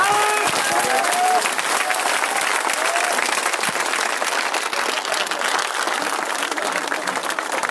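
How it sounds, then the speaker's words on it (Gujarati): Loud, dense applause from a large crowd at a political rally for an independent Lok Sabha candidate, sustained and steady throughout with no break. "કરંટ સાથે તાળીઓ પડવી જોઈએ સાહેબ"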